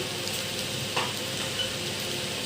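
Fried rice hisses and sizzles steadily in a pan over high heat, with faint stirring scrapes over the dense, continuous frying noise, close and alone.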